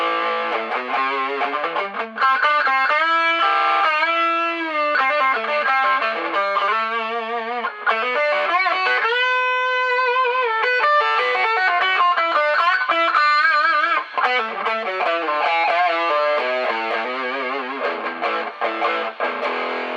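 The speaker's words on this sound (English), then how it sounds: "Let's go over to the overdrive sound. So here's the pedal." An overdrive pedal run through a 1980s Award Session Rockette 30-watt solid-state amp carries a distorted electric guitar playing a continuous melodic line with bends and sustained notes, loud and up front with no talking.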